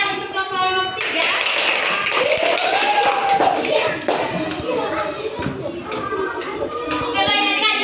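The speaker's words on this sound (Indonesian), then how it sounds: "Tepuk tangan untuk kelompok 3" Children in a primary school classroom clap together for a group, a steady loud patter of many small hands, with a teacher's voice and children's chatter mixed in.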